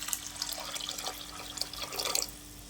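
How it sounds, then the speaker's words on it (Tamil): Tamarind water poured into a pan of fish curry over sautéed masala, a steady trickling splash with scattered drips, fairly quiet and close. "இப்போ புளி தண்ணி சேர்த்துக்கலாம்."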